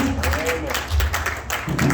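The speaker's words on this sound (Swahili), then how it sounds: "Tuchape makofi tena ya Mungu." A church congregation clapping and applauding God, a short burst of rhythmic hand claps mixed with voices.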